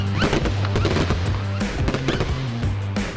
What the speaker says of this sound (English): finished her the night off with a fireworks display